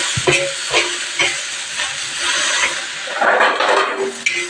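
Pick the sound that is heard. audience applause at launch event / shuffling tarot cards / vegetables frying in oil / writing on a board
vegetables frying in oil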